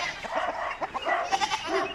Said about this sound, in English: the goats are wanting me to feed them